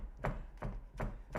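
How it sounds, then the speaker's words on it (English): Fresh mint roughly chopped with a knife on a chopping board, four firm evenly spaced thuds close by, with no talking. "So just give it a rough chop once,"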